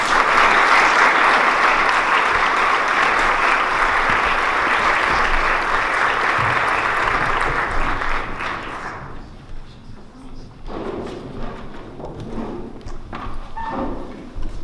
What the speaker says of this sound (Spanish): damos la bienvenida con un aplauso a los ponentes que nos estarán con nosotros esta tarde